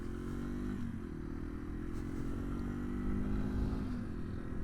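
A 2025 Yamaha TW200 motorcycle ridden off-road holds a steady low engine drone with a slight pitch dip and recovery, plus wind and faint clatter throughout, close and continuous.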